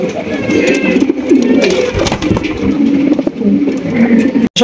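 King pigeons coo in low, throaty repeated calls close by at a pigeon farm, with some background noise and faint murmuring around them.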